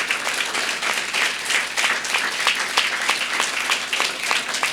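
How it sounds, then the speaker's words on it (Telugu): A church congregation claps loudly and keeps a quick, steady rhythm for several seconds, with no voices standing out. "అటువంటి సమరుడైన యేసయ్యకి గట్టిగా చప్పట్లు కొట్టి దేని మహిమ పరుద్దాం"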